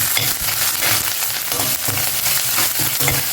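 Baby potatoes fry in hot oil in a pan with a steady, dense sizzle and crackle that runs loud and close throughout, with faint stirring scrapes underneath and no voices.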